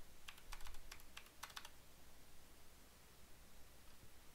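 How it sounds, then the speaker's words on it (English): Quick bursts of keystrokes on a computer keyboard, entering a numeric ID into a terminal session, clustered in the first second and a half, then only low room hiss; quiet, close and with no voices. "so I'm going to type that here"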